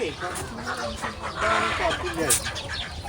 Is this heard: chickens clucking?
yes